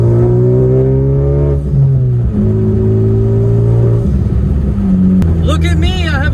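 Honda Civic Type R with its exhaust broken off, droning loudly and raspily while driving, with the pitch stepping up and down through several rises and a faint voice near the end.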